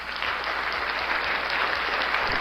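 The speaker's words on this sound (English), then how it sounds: "Let's give that the applause." An audience applauds for an air hockey tournament winner at a live event, dense continuous clapping held at an even, fairly loud level throughout with no talk.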